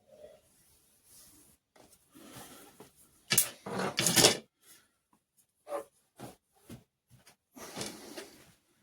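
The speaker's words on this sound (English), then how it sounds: "And once this is done, just pull all the tape off." Tape being pulled off freshly fletched arrow vanes: quiet rustles, then a loud, close tearing rip in the middle, followed by a few shorter peeling bursts.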